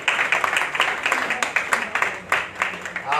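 A hall audience claps at an annual literary society celebration as guests are garlanded, with distinct, slightly uneven beats of a modest crowd rising and falling, fairly close and moderately loud.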